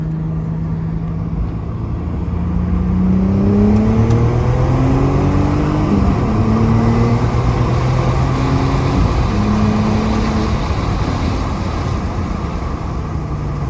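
An Audi B6 A4 pulls hard in second gear, its engine note climbing steadily toward redline, loud and continuous from inside the car, with no talking.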